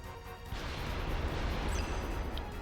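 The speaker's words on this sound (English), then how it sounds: "So let's bomb these crates." Bombs burst against crates in the video game Wild Arms 3, a loud crashing blast that rolls into a sustained rumble with a brief high chime near the end, no voices over it.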